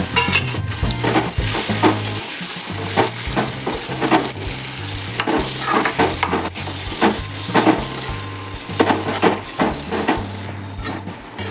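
Cut tomatoes with turmeric fry in a pan for a potato curry, a constant sizzle broken by frequent spoon scrapes and knocks against the pan, close and fairly loud.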